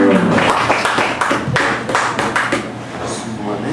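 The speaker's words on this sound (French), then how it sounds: "On va l'applaudir comme il faut, on va l'accueillir comme il faut." A poetry-night audience at La Messe Poétique claps to welcome a poet, a dense burst of hand claps that gradually thins out, with voices mixed in.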